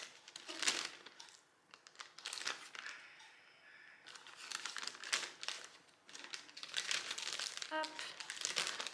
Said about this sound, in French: Vous prenez un petit sac plastique qui se referme, vous les mettez à l'intérieur.